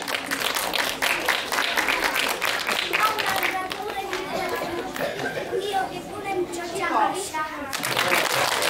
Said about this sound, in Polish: piękne brawa